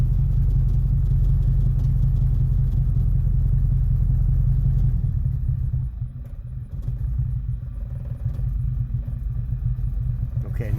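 A 1991 Chevy Silverado engine rumbles near and loud at first, then settles to a quieter, steady idle on its own, with faint voices in the background.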